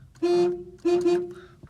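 A Skoda Favorit 136L horn blares in two close honks, the second slightly broken, nearby and loud, followed by a faint click.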